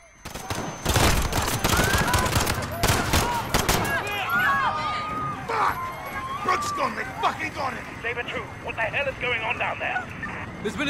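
Gunfire bursts in a Call of Duty: Modern Warfare battle at Piccadilly Circus, with dense rapid shots in the first few seconds, then scattered pops under shouted voices and sirens.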